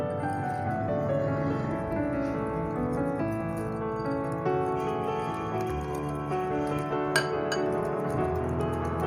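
Three eggs and a cup of sugar are mixed in a bowl for marble cake, with quick, repeated light clinks and taps of the utensil against the bowl over steady background sound.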